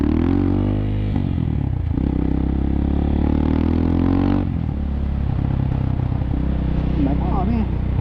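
A 2019 CSC TT250 motorcycle with a 45-tooth rear sprocket riding at speed, its engine droning loudly and steadily with wind noise, shifting pitch partway through as the rider talks over it.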